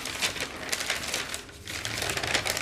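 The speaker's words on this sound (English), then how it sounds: "It's so crinkly." A cheap $1 paper notebook handled up close, its pages giving off dense, continuous crinkling and rustling for a few seconds, with a brief lull near the middle.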